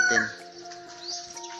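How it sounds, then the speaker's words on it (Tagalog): Pigeons returning to a home loft give soft calls and coos, with a brief loud bird call at the start and faint steady tones behind, a few birds close by. "Ayan mga kalapati."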